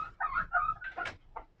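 Chickens of an organic breed in a coop, a few close clucks and squawking calls in quick succession, fairly loud and alone.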